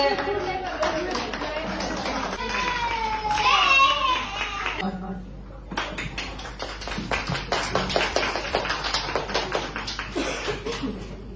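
Dense clapping from an audience at a community group gathering in Dhaka, a steady patter of many hands filling the room, with children's voices and chatter mixed in.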